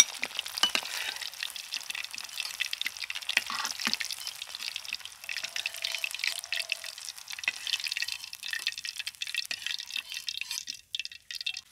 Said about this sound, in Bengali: পকোড়াগুলো লাল লাল করে ভেজে নিয়েছি